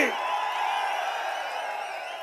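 A crowd roars at a political rally in Thoothukudi for AIADMK general secretary Edappadi K. Palaniswami, a dense, sustained wall of voices with whoops and shouts, loud and steady throughout.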